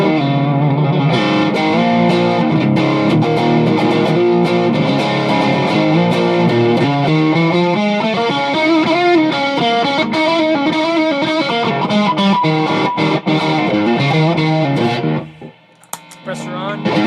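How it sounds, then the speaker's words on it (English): An electric guitar played on the bridge pickup runs through heavy distortion with the compressor pedal switched off, chords and riffs ringing loud and steady before cutting to near silence at the end. "So here's the signal with the compressor off."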